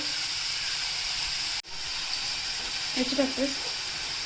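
Chopped onion fries in oil in a pan, making a steady, soft hiss and sizzle close up. A brief thump breaks it partway through, and a faint voice speaks under it near the end.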